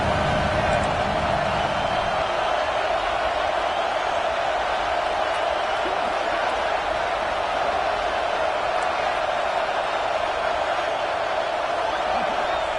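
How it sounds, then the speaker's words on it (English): Steady stadium crowd roar at a football game, a dense continuous wash of noise filling the whole stretch with no clear breaks or distinct voices rising above it. "This crowd trying to make life miserable for this offense."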